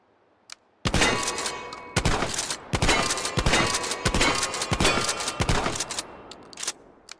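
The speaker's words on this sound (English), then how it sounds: "Then we have the TOZ 1994, shooting a 12 gauge shotgun round." A TOZ 1994 12 gauge shotgun fires and is reloaded by pushing the grip forward and pulling it back. Several loud, booming blasts arrive close together with mechanical clacks between them, and no one speaks.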